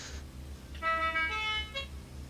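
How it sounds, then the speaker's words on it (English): A drift car's horn honks once as a signal of readiness, a clear mid-pitched toot over a low idling engine rumble at a drift event. "just honk when ready, buddy, and then you may go"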